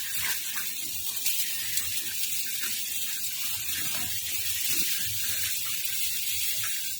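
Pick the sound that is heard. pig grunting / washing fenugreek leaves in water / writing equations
washing fenugreek leaves in water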